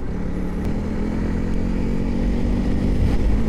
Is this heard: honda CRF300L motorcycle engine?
yes